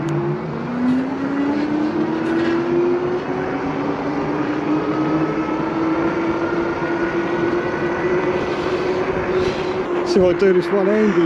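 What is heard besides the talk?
Engwe Engine Pro e-bike motor kicking in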